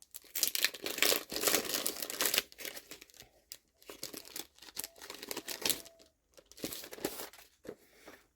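Paper envelopes with a maritime design, long format about 16.5 by 9 cm, crinkle and rustle as they are handled, in close, intermittent bursts of tearing-like crackle separated by short pauses.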